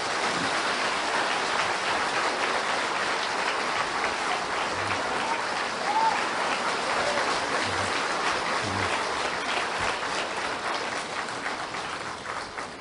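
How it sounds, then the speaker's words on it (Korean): Warm, steady applause from a church audience welcoming actor Choi Soo-jong to give his testimony, a dense rain-like patter of many hands lasting the whole stretch and tapering slightly at the end. "뜨거운 박수로 환영하겠습니다"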